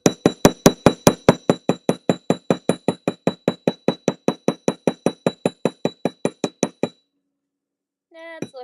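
A metal jewelry blank is hammered for texture with a fast, even run of about thirty bright ringing strikes close up, then a pause before a brief voice.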